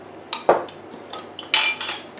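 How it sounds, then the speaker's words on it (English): A metal fork clinks against a glass jar while lifting sun-dried tomatoes out of oil, several sharp, close taps and scrapes spaced irregularly with quiet pauses between. "So I'm going to pick these out with a fork."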